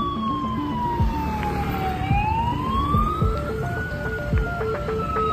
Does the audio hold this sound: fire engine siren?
yes